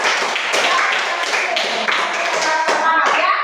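Dense classroom applause for a group of fifth-grade students, many hands clapping loud and close in a continuous burst, with children's voices mixed in.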